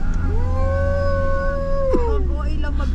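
A dog howls in one long, rising then sustained cry that bends downward near the end, close and loud over steady background rumble and brief voices, on a day tour at Valleywood near Baguio.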